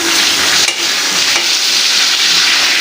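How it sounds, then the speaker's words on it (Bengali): Tilapia pieces frying in hot oil give a loud, steady, close-up sizzle that crackles continuously with no voices over it. "এবার তেলটাও আমার গরম হয়ে গেছে, আমি ভেজে নেব"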